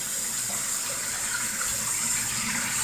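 A toddler washes dishes at a kitchen sink while tap water runs in a constant, even splashing stream, close by and with no talking.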